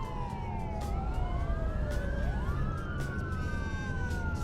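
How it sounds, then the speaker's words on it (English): Ambulance and fire engine sirens in the truck-driving game American Truck Simulator, several overlapping wailing tones sweeping up and down steadily over a low engine rumble throughout. "An ambulance and a fire engine heading to the same location."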